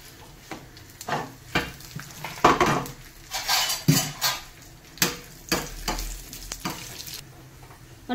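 Cashews and raisins hit hot oil already tempered with cardamom, panch phoron and white and black mustard seeds for a raw mango chutney. A close, crackling sizzle runs under repeated loud clinks and scrapes of a spoon against the metal pan.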